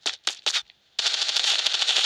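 Gunfire in the mobile shooter Standoff 2: three sharp bursts, a short pause, then a sustained loud rapid stream of automatic fire, with no talk.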